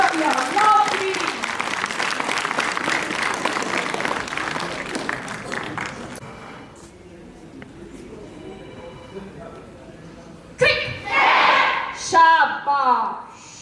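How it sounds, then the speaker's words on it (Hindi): Children at a book festival clap for themselves in a busy, fairly close patter of applause lasting several seconds, fading into quiet before a voice speaks briefly near the end. "ताली बजाएंगे अपने लिए।"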